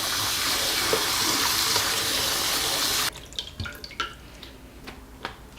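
Radish strips rinsed under a running tap: a steady loud rush of water for about three seconds, then the flow stops and scattered drips and splashes follow as the strips are shaken.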